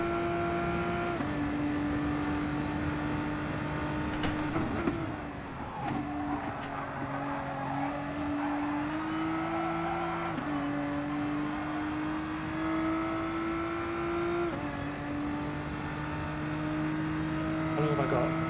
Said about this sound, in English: What car? This is the Nissan GTR.